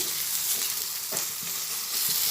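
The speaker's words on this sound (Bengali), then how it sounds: "গ্যাসের ফ্লেমটা একদম কমিয়ে দিয়ে ছানাটা একটু নাড়াচাড়া করে নিচ্ছি" Chhana (cottage cheese) gets stirred in a pan over a very low gas flame, a soft continuous sizzle with faint scraping strokes of the spoon, close by and alone.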